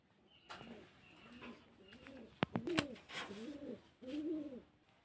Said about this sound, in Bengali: তো এই যে পাখিগুলো কত চমৎকার, এদের বাচ্চারা অনেক সুন্দর সুন্দর হয়